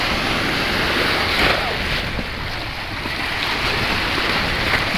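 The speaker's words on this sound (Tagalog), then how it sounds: "lalaki ng alon no?" Heavy ocean waves surge and wash around a boat amid constant wind roar, a loud, unbroken rush with no voices.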